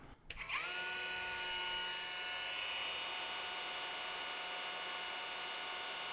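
A Metabo HPT cordless 2-1/4 HP router on its lowest speed setting spins up quickly, then holds a steady, fairly faint high whine.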